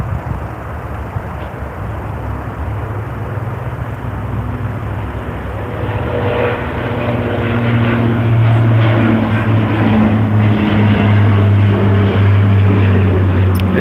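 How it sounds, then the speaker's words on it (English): An Airbus A380 airliner taxis onto the runway at night, its jet engines a loud, steady droning roar that swells gradually and holds, heard from a nearby vantage point. "I can see the A380 is taxiing onto the runway now."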